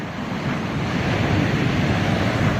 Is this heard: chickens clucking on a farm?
no